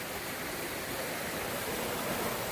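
A waterfall in deep, isolated forest pours down like heavy rain, making a steady, dense roar of falling water that stays even and close throughout, with no voices.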